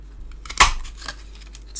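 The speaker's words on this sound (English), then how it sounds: "And we can just cut that leaf out the bottom." Scissors cutting a leaf shape out of green card, a single close, crisp snip and rustle of card followed by a softer second cut, with no talking.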